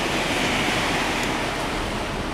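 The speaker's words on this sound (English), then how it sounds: "I got to hose down the back of the truck and the chute" A hose sprays water over the back of a concrete mixer truck and its chute, producing a steady, loud rushing hiss with no pauses and no voices.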